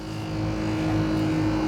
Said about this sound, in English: I reckon this compressor should kick in the back. You'll be able to hear it there.